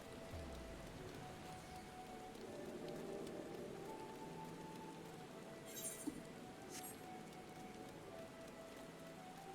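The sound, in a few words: rain falling in video game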